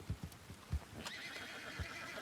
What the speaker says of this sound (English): We're getting Mills on your horse